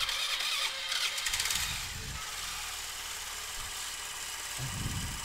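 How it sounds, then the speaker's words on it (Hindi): A Hero Maestro scooter engine runs outdoors after a rebuild, a steady continuous idle hum with a brief revving rise at the start, fairly close and alone without talk. "इंजन हमने बाहर में स्टार्ट कर दिया है और इंजन हम लोग का चल रहा है"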